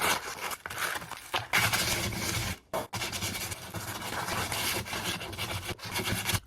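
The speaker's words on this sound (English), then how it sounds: "We got to get this thing really sanded down." Hand sanding of a wooden snake-carved hiking staff without a power tool: steady broadband rasping strokes that run continuously and close up, with brief pauses around the middle.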